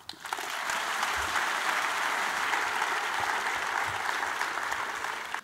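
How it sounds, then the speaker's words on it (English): Lecture audience giving a warm welcome, a steady dense round of applause rising quickly and holding evenly before stopping, with no talk over it. "So I would like a warm welcome and a big round of applause for Martha Nussbaum."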